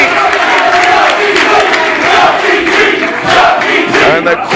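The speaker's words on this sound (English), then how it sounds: "And the crowd in full appreciation of the Kentucky gentleman, Chuck Taylor." A wrestling crowd cheers and roars for Chuck Taylor, the Kentucky gentleman, after a belly-to-belly suplex, a loud, swelling wash of voices and shouts with some clapping mixed in.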